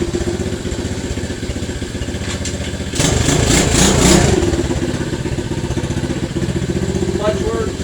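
An SSR 110cc pit bike engine runs while being ridden, a close, steady buzzing putter that swells into a louder rev for about a second before settling back to a rough, even drone.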